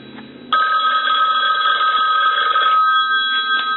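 A green Western Electric 2500 desk telephone rings loudly and steadily with its mechanical bell, a continuous bright jangle lasting a few seconds after a brief faint lead-in, with no talking.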